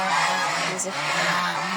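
Domestic geese kept on a farm honk loudly and continuously at close range, several overlapping harsh calls filling the whole stretch.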